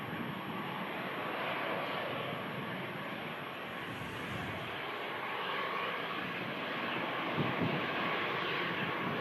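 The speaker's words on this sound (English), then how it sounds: "A great deal of braking needed from the EasyJet." An EasyJet airliner landing at Manchester Airport in thick fog, its engines giving a loud, steady, broadband roar with reverse-thrust braking that holds for the whole stretch.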